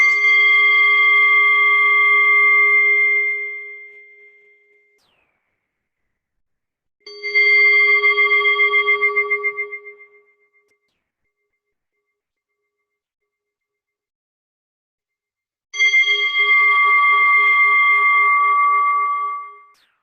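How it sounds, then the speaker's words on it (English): Meditation chimes are struck three times to close a mindfulness practice, each clear bright tone ringing out and fading over a few seconds, separated by silent pauses, with no voices. "I will now ring the chimes to close this practice"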